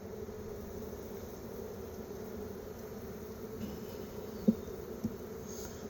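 Honeybee drones buzz in a continuous, even drone at an open hive, a soft steady hum with a couple of faint clicks and no voices.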